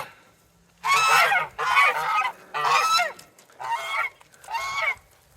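A flock of farm geese honks in five loud, raucous bursts about a second each, close by and separated by short pauses.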